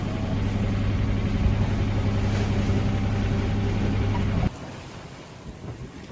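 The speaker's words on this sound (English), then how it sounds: "now that we've got the engine running" A sailboat's engine runs steadily at sea on a windless day, a loud low hum under wind noise that cuts off abruptly after about four and a half seconds, leaving a quieter background.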